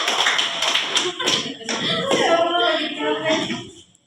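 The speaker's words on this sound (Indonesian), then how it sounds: "tepuk tangan buat kita semua" Students in a classroom applaud one another in a quick burst of hand clapping that tapers off toward the end, with voices talking over it partway through.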